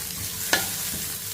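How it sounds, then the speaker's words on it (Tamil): A soft sizzle of chopped onion and carrot sautéing in a pan, with one brief scrape of stirring, close and low. "கொஞ்சம் வதக்கி விட்டுக்குருவோம்."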